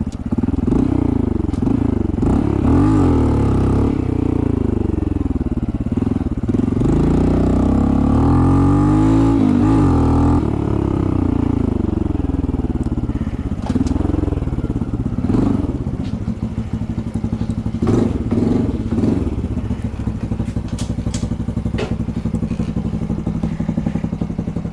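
A Honda CT125 motorcycle revs hard while popping a wheelie, its engine climbing and falling in loud, close bursts with a few clattering thumps, then settling into a rougher steady run.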